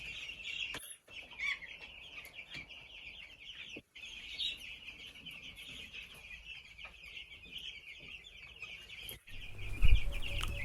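Broiler chicks in a winter brooder cluck and cheep continuously at close range, a busy high chatter with a brief louder thump near the end and no talk.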